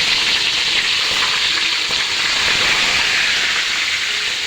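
Milkfish frying in a pan of hot oil left over from cooking chicken nuggets, giving a loud, steady, dense sizzle that crackles continuously throughout with no voices.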